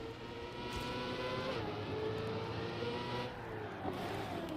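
A race car engine in a racing video game hums and revs continuously at moderate volume, with steady whirring pitch shifts and no talk.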